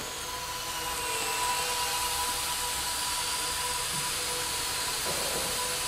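A small indoor radio-controlled model plane in flight, its electric motor giving a steady, loud whine with a high thin tone that holds almost level throughout, with no talking.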